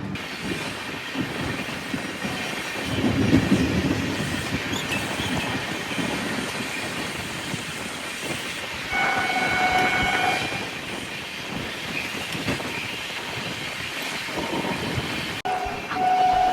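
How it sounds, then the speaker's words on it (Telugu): Devagiri Express running on the rails, a steady rumble of wheels and carriages with rising clatter, a brief horn-like tone partway through and another near the end. "మన ట్రైన్ అయితే మళ్ళీ స్టార్ట్ అయిపోయింది ఇక్కడ నుంచి"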